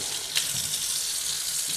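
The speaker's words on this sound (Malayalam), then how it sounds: "ഇനി വെള്ളം ഒഴിച്ച് കഴുകാം" Water is poured continuously over a rusty iron dosa tawa during washing, making a steady, even splashing hiss throughout.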